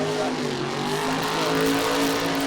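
The Bounty Hunter monster truck engine revs at Monster Jam San Diego 2019, a loud, sustained, buzzy growl with steady tone under a commentator's voice in a stadium arena.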